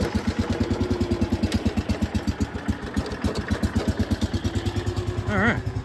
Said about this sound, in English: All right, that one fired up. That's my mower, good little tractor.